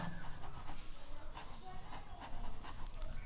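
Chalk or marker writing on a board during an English grammar lesson, a close continuous scratchy rubbing in short strokes for a few seconds, faint and without speech.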